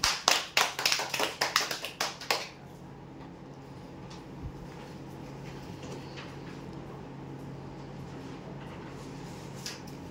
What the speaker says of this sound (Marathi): जोरदार टाळ्या होते यांच्यासाठी